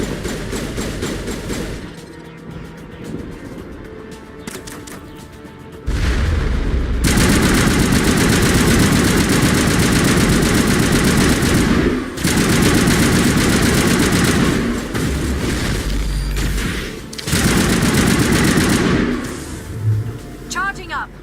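Heavy gun fire in the video game Mass Effect 1, loud sustained bursts of rapid booming shots in long stretches broken by brief pauses, with game voices speaking over the din.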